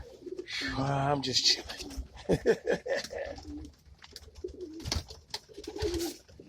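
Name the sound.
racing homer pigeons cooing in the coop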